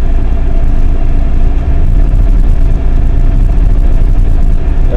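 A Jeep Grand Cherokee ZJ with the 5.2L V8 idles with a steady, loud low rumble close by, given a little gas so the engine note rises slightly; no distinct sharp rev peak stands out.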